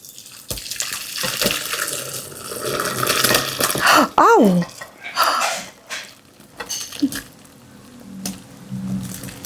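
Cooked sayur lodeh vegetable soup pouring and splashing from a pot into a bowl, a wet sloshing stream with clinks, while a person talks and exclaims nearby.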